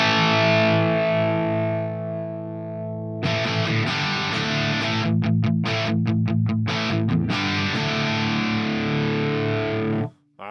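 An electric guitar plays rhythm through a Headrush Tangerine amp preset, giving a loud, distorted tone with sustained chords, then a burst of choppy staccato strums before ringing chords that cut off abruptly.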